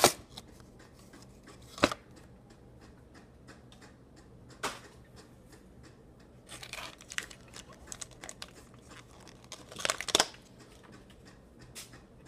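An Auto World die-cast toy truck's card backing is pulled from its packaging, giving a few sharp crinkling snaps and scattered rustles amid quiet handling, close and fairly soft.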